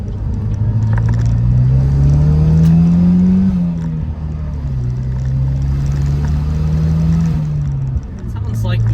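A Pontiac Solstice with a stage 1 tune and a turbo, its engine droning and rising under load while driving, with an odd tone shifting up and down; close and fairly loud in the cabin, with talk over it.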